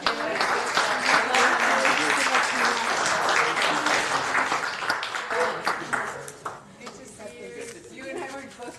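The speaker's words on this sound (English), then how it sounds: "Let's give him a round of applause." Applause from the audience at a housing authority meeting, a sustained round of clapping mixed with talk that thins out and fades toward the end.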